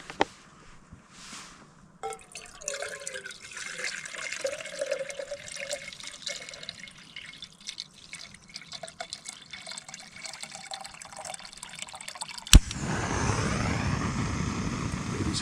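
Freshly boiled water pours and trickles from a camp pot during solo backcountry camping in the snowy mountains, close and splashing unevenly, ending in a louder rushing burst.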